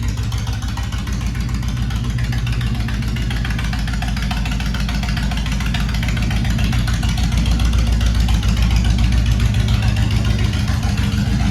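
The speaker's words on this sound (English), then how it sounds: "It's idling nicely, but when you touch the throttle, it still did not warm up yet perfectly." A carbureted motorcycle engine, not yet fully warmed up, idles steadily and loudly nearby in a garage, a continuous rhythmic rumble with no other sounds.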